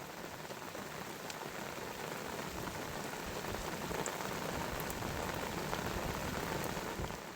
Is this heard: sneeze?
no